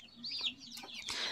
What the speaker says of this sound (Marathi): आता हे जे आहे हे आहे प्युअर गावठी कोंबडी